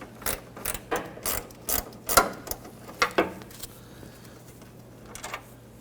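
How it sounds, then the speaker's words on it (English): Gear wrench ratcheting on a 10mm bolt at a 2006-2014 Honda Ridgeline headlight, a string of about nine sharp, close clicking bursts in an uneven rhythm that taper off, with no talking. "you're going to locate a 10mm bolt. I'm going to use a gear wrench for clearance purposes"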